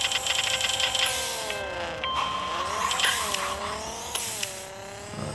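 A racing car in a video game, engine whining with rising and falling pitch as it shifts and corners, with sharp tire squeal layered over the steady motor.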